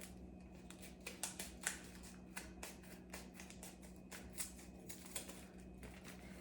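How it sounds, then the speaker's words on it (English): Sharp scissors snip repeatedly through thick paper for a budget DIY Christmas decoration, a quiet series of crisp, irregular cutting clicks close by, with no talking. "get some scissors, and you're going to need to cut"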